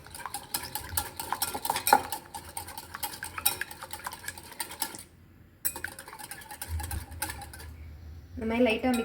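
Two eggs lightly beaten in a bowl at home, a utensil clicking and scraping in quick rapid strokes against the sides, close and steady for several seconds with a brief pause, a voice speaking near the end.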